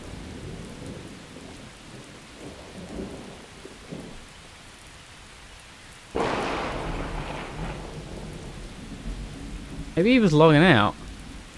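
Thunderstorm with rain in the video game Miscreated: soft rain under a brief spoken line, then a sudden loud thunder crash, followed near the end by a short burst of a warbling tonal sound.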